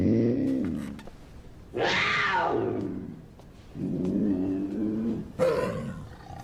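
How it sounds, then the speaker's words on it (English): A puma gives several loud, close snarling yowls and roars in separate bursts, each rising and falling, with brief gaps between calls. "It's a puma."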